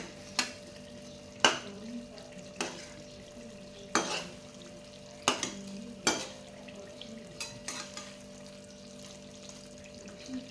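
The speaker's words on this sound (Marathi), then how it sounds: "आता आपण आपली कारले पलटी मारून घेऊयात जेणेकरून दुसरी बाजू व्यवस्थित आपली कुक होईल" Stuffed bitter gourds cooking in a pan after being flipped, a quiet low sizzle punctuated by repeated sharp clinks and taps of a utensil against the pan, irregularly spaced and close.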